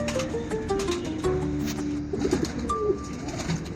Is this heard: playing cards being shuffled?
no